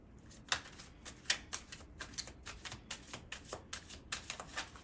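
A deck of tarot cards being shuffled close up in quick repeated riffles, a rhythmic run of soft flicking bursts at fairly low volume.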